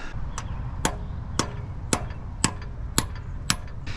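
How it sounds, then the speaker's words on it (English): A hammer strikes a socket to drive a part in while installing a K20/K24 engine in an Acura RSX: steady, evenly spaced blows, seven or eight sharp knocks about half a second apart over a low background hum. "we're going to take our mallet or a hammer or whatever and smack it and drive it in"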